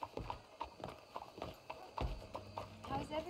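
A rapid, rhythmic clip-clop of horse hooves trotting close by in Red Dead Redemption 2, with a brief low thump in the middle and no clear whinny.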